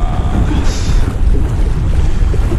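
Strong, cold sea wind at the shore during shore jigging, roaring loudly into the microphone with a constant gusty rush and whitecapped surf beneath, no talk.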